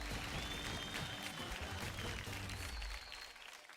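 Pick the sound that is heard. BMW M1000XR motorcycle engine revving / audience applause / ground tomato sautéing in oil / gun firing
audience applause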